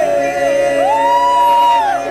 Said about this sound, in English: the crowd kept cheering